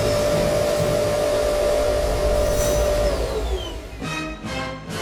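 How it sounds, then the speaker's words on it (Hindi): A cartoon vacuum system switches on with a loud, steady whirring roar and a rising whine, then sputters into a few choppy bursts near the end. "वैक्यूम सिस्टम ऑन करो।"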